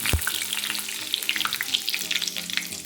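Cumin seeds and curry leaves crackling in hot oil in a pan, a dense continuous sizzle scattered with small pops and spits, opened by a single thud as they drop in.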